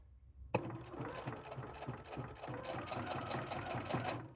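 A sewing machine starts abruptly and stitches a quilt block seam for a drawstring bag, with a fast, steady mechanical chatter running close and continuous to the end.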